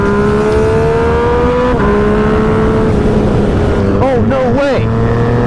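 A Lamborghini Aventador SVJ passes on a twisty road, its engine rising in pitch as it revs, heard over heavy wind roar from a Yamaha FZ-09 motorcycle ride, while a rider exclaims briefly.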